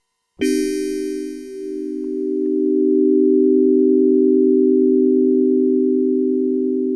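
Sustained synthesizer tone from an M0SS 416 FM synthesizer, starting with a bright attack that quickly thins to a steady, loud, pure held note with reduced sustain, alone without talk.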